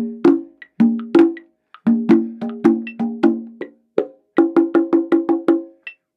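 A sequence of sharp, pitched drum hits in a syncopated salsa-style pattern, with a faster run of strikes near the end, played alone.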